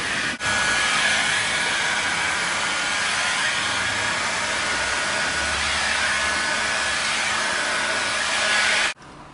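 Continuous loud hot-air roar of a heat gun blowing on vinyl wrap film, starting and cutting off abruptly, with a faint fluttering of the film under the steady rush.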